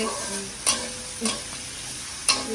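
Pulao rice is stirred and fried in a karai brought from Bangladesh, a steady close sizzle broken by three sharp scraping clinks of the spoon against the pan at irregular intervals.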